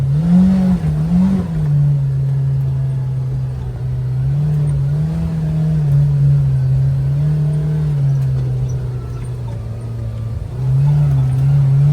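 Engine of a Kawasaki Ridge side-by-side UTV with stock shocks drones steadily while driving, a loud continuous low rumble that rises and dips slightly in pitch as throttle changes, close and alone without talk.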